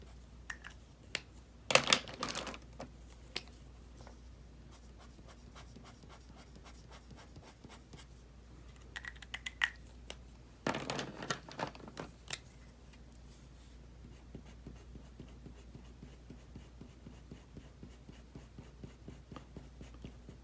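Pencil scratching on paper while drawing a portrait, faint and close, with soft continuous strokes broken by a few louder bursts of quick scribbling.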